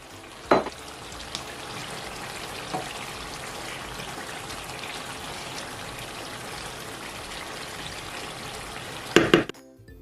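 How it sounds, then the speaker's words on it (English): Boiled eggs dropping into a simmering pot of Nigerian Ayamase stew: steady bubbling sizzle throughout, with a sharp plop near the start and a cluster of clinks and splashes near the end. "So I just have some boiled egg. I'm just going to drop into the stew."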